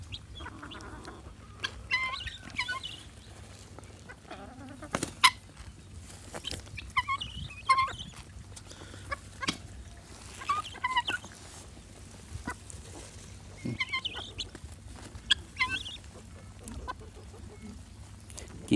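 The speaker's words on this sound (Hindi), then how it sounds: "चकोरी है ये।" White guinea fowl give scattered harsh, rattling calls at a distance over quiet background hum, irregular and fairly faint.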